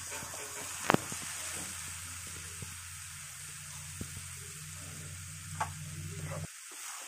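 Carrot filling with raisins, crushed cardamom and chopped cashews stirred in a pan: a soft steady sizzle with occasional spoon knocks and scrapes, ending abruptly.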